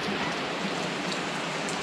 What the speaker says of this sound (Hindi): तो फिलहाल अभी बारिश लग चुकी है